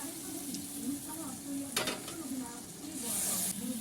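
Pasta water added to a pan of sizzling spices (turmeric, Kashmiri chili and coriander powder) for homemade wheat-flour pasta: a soft, continuous fry and hiss with stirring, low and close, plus a brief brighter splash.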